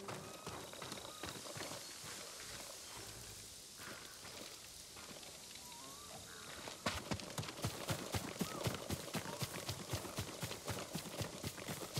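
A horse's hooves clatter in the game Ghost of Tsushima, starting faint under ambient game sound and then breaking into a loud, rapid rhythmic gallop for the second half.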